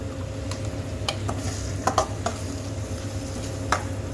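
Tomato puree hits a hot tempering of mustard seeds, cumin, chana dal, urad dal, asafoetida and curry leaves, giving a steady close sizzle broken by a few sharp stirring clicks, with no talk.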